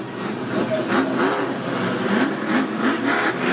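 Outlaw sedan race cars accelerating off the start at Macs Speedway, a loud mass of engines roaring and revving together in rising, wavering pulses heard from a distance across the track.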